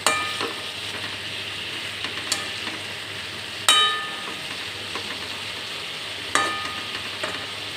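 A Bengali Malabar spinach curry with fish head and green chilli bubbles softly in a pan under a faint steady sizzle, while a spatula gives a few sharp, spaced clinks and scrapes against the metal.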